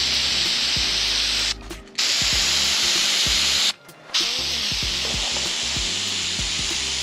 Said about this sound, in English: I'm up to the primer seal part. Sprayed on pretty good,